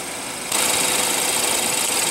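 A 2015 BMW X3's 2.0-liter inline four-cylinder TwinPower turbo engine, with direct injection, idles in a steady, close mechanical hum that jumps noticeably louder after half a second.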